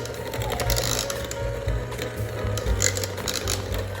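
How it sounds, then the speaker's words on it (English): An electric hand mixer whirs steadily while its beaters break up and mash boiled potatoes in a bowl, with a continuous motor hum and irregular clicks and scrapes from the beaters against the bowl. "We're going to beat our mashed potatoes or mash our potatoes with the hand mixer."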